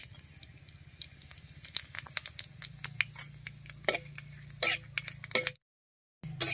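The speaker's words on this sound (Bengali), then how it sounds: "ফোড়নের জন্য কড়াইতে দিয়ে দেব দুটো শুকনো লঙ্কা, দুটো তেজপাতা, আর দিয়ে দেব হাফ চামচ গোটা জিরা।" Two dried chillies, two bay leaves and half a spoon of whole cumin sizzling in mustard oil in a wok, a steady low frying hiss with light crackles and sharp pops, then a brief silence.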